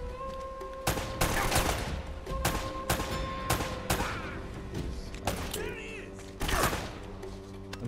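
Gunfire in Uncharted: Drake's Fortune comes as loud, sharp shots and bursts spread through the clip, with the heaviest volleys near the start and the end and mechanical game sounds in between.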